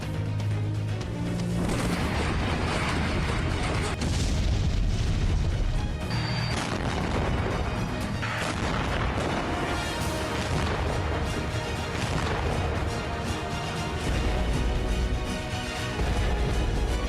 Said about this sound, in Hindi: रूसी धमाकों से यूक्रेन धधक रहा है।